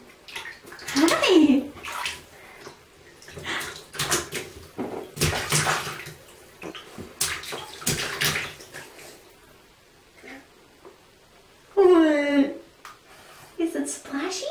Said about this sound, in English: Hey, Gibby, you gonna splash this time?